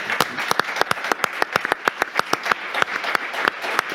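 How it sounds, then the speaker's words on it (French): Applause from an audience at a civic talk in Nantes, a fairly close, even burst of clapping with distinct sharp individual claps standing out over the dense patter throughout. "Applaudissements pour Emmanuel"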